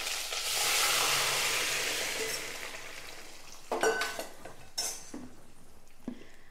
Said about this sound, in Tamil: இப்போ நம்ம மசிச்சு வச்ச தக்காளியை ஊற்றிடலாம்.